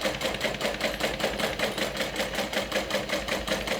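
Fast, steady rhythmic whirring of a sewing machine stitching through several thick layers of a backpack using a short, sturdy stitch, close and continuous with no voices.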